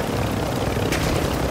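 A video-game helicopter gives a steady, broadband rotor-and-engine drone that holds at an even level throughout, with no talk over it.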